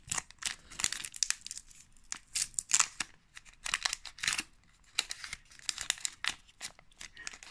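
Crinkly foil of a Pokémon card booster pack being torn and crumpled open, close and fairly loud, in repeated short bursts of ripping and crinkling with brief pauses, no talking.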